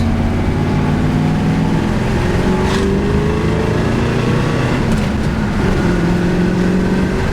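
A cold 1968 Chevrolet Camaro RS/SS big-block engine rumbles loudly and steadily up close, its pitch sliding up and down through a few revs on wet roads.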